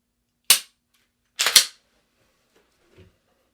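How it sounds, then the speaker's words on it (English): Gunfire from defensive shooting practice: one sharp shot, then a quick double shot about a second later, loud and close, with a faint clatter after and no talking. "Now we're going to get into our defensive shooting situations."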